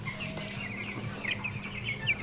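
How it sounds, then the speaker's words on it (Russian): Chicks in a poultry house fitted with automatic drinkers cluck and peep softly as they begin to drink, over a steady low hum of ventilation, with occasional brighter chirps standing out nearby. "Цыплятки наши начинают пить."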